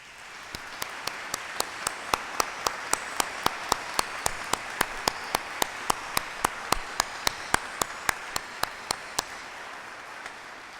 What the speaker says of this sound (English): a special thanks and a round of applause now, if we would, for all the choirs